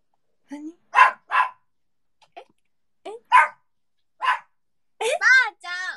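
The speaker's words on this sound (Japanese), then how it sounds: "うちの子を見せて吠える" A dog barks in short, sharp bursts, a few spaced single barks and then a quicker run of high yips near the end, loud and close amid a quiet room, with a voice mixed in.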